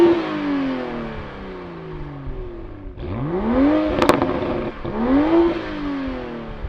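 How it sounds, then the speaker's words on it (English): A 2022 Toyota Supra and a BMW M240i rev hard in turn, each engine rising and falling in pitch through loud, close, throaty sweeps with nobody talking. "And another thing we tested at the racetrack, we can also test it out here, is the engine sound."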